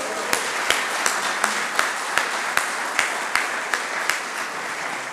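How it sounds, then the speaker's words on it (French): An audience at a business awards ceremony in Ardenne Métropole applauds steadily, a broad wash of clapping punctuated by a regular beat of louder rhythmic claps throughout. "lui aussi je crois qu'il mérite quelques applaudissements"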